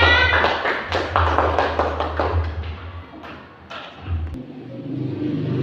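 Students clap in a primary school classroom, a fairly quick burst of dense hand claps that thins out after a few seconds, moderately loud with a low rumble beneath and little talk.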